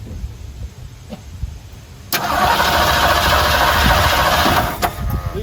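An old Ford 289 V8 fitted with a new carburetor cranks and catches, then runs at a loud, steady rough idle close by for several seconds before dipping slightly near the end; no talk over it.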